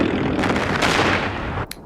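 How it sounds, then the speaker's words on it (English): Small firework explosion in the video game O.D.T Escape Or Die Trying: a dense, loud burst of crackling bangs and rumble filling the clip, ending with a sharp hiss and a final pop, with no talk. "I had even prepared a small firework to celebrate."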